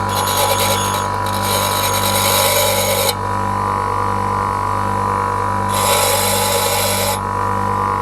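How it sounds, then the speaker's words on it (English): A bench grinding wheel deburrs a metal airsoft M4A1 part over a constant motor hum, with two bursts of harsh, hissing grinding as the piece is pressed to the wheel, loud and close. "just take it back to the grinding wheel and deburr it basically."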